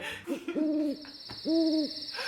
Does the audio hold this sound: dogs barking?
no